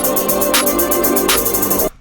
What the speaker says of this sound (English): Next thing I added were these hi-hats, once again from the Florence drum kit.